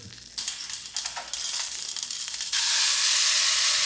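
Spices tempered in hot oil for a Kerala Vishu sadhya dish, a loud close sizzle that jumps and swells as ingredients hit the pan, then settles into a steady frying hiss.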